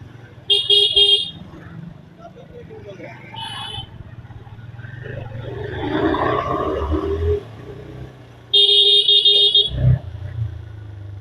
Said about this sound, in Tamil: பயங்கரமாக டிராஃபிக்குப்பா